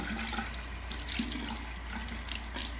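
Water running and splashing in a sink while historical hair pieces are washed free of powder and pomade, a steady close wash with small splashes and drips throughout.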